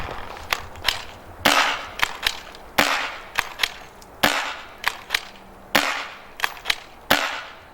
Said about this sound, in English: let's take a couple of shots off